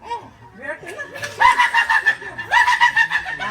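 A chicken clucks repeatedly in bursts, nearby and fairly loud, with bright chattering calls rising toward the end.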